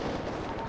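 Gunfire in GTA 5 during a favela shootout: a dense, continuous roar of rapid shots, loud and close, with no gaps in the barrage.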